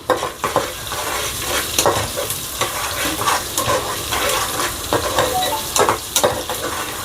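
Slit green chillies fry in oil for a chicken pulao, a close, steady sizzle broken by repeated scraping and clinking strokes of a spoon stirring in the pan.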